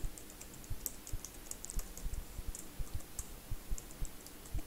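Typing on a computer keyboard to sign in to a home listings website: quick, light key clicks in an uneven rhythm, close and alone with no talking.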